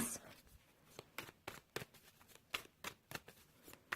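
Quiet, soft riffling and tapping of oracle cards being shuffled, arriving in irregular bursts with no one speaking.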